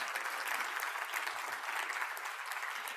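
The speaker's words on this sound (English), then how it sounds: "Huge round of applause." A room of attendees at a finance talk applauding steadily, a dense, even wash of clapping hands heard at a distance and holding at a constant level throughout.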